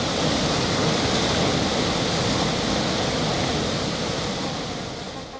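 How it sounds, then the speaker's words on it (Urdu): The Kunhar River rushes beside a mountain road, a steady, loud roar of turbulent water that holds constant for several seconds before easing slightly at the end, with no voices. "سارے راستے دریائے کنہار سڑک کے ساتھ ساتھ بہتا چلا جاتا ہے۔"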